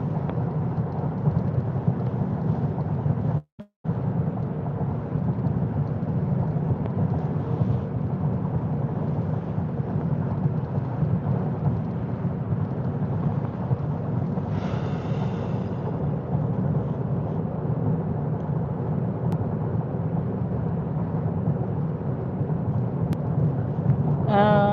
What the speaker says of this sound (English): Rain is loud.